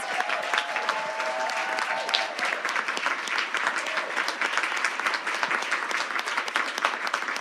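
Sustained applause from a large audience at a school board meeting, a thick even patter of many hands with a brief tonal sound near the start.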